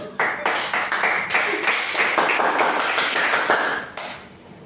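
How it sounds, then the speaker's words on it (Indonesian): A class claps for a short stretch, with quick tapping hand claps packed close together and fairly loud before they cut off abruptly near the end. "Aplaus dulu."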